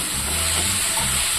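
Tomato, carrot, onion and ragi semiya frying in a pan, giving a steady, soft sizzle and hiss that stays low and even throughout.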